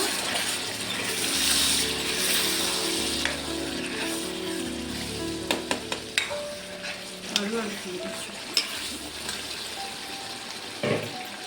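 A prawn, egg and tomato curry sizzles and bubbles steadily in a pan as the oil separates, with occasional clinks and scrapes of a spoon, close and without talk.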